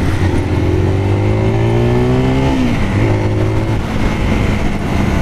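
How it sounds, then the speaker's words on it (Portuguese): A Zontes R 350 motorcycle engine braking: a loud, steady engine drone whose pitch falls smoothly as the bike slows, dips briefly, then settles into a lower hum, with no talk. "Ó, o freio motor dela."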